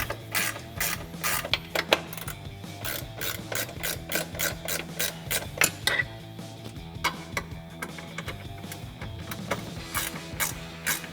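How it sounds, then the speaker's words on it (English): A 13mm ratcheting wrench turning nuts on running board studs of a 2019-2024 RAM 1500: close, sharp clicking bursts in a quick uneven rhythm, with brief pauses between runs of clicks and no talk over it. "we're gonna grab 13mm ratcheting wrench instead"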